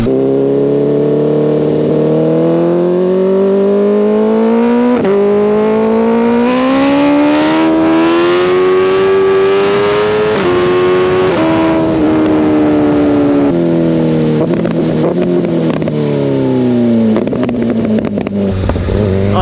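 A tuned 2025 BMW S1000RR motorcycle engine revs hard and loud, its pitch climbing and dropping through repeated downshifts with crackling blips between gears, continuous throughout with no talk.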